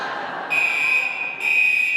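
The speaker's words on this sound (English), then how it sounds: "The alarm is loud." A loud fire alarm in a public meeting hall emits a steady high-pitched electronic tone that starts abruptly, briefly drops out, then resumes, sounding continuously over faint room noise.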